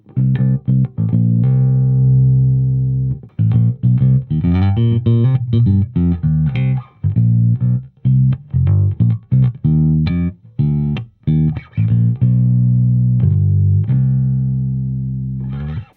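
A bass guitar plays a melodic line through an Orange Crush Bass 50 amp with a smiley EQ, notes plucked in phrases with short gaps, loud and full with a bright, scooped tone.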